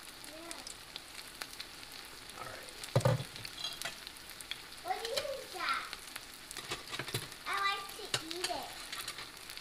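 Beer-battered rockfish pan fries in hot oil, a soft steady sizzle with occasional louder crackles and pops, while a person speaks intermittently over it.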